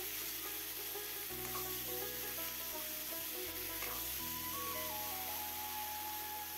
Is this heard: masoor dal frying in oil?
yes